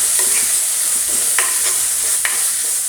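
Green chilies stirred into onions frying in a pan for a Kerala-style prawn curry: a steady sizzle with a few sharp spoon scrapes.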